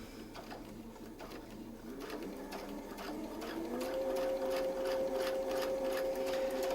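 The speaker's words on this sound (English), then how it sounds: "We're going to sew around following the reference lines that we've marked" A sewing machine stitches steadily around a Westalee Mini SFX template, its rapid needle clatter close and continuous, rising into a higher, sustained motor whine over the last few seconds.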